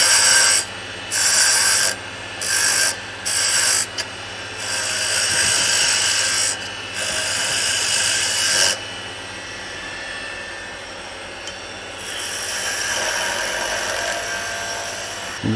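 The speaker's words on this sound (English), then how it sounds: "I'm just going to do some peeling cuts to bring this on down." Woodturning lathe peeling cuts on a spinning wood blank: a broad rasping, scraping hiss comes in repeated bursts during the first half, then settles into a steadier, quieter shaving sound over a constant motor hum, with no talk.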